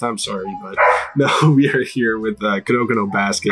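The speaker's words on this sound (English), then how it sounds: "Apologies for the dogs in the background." Dogs bark in the background, loud and repeated, mixed in under someone talking continuously close to the microphone.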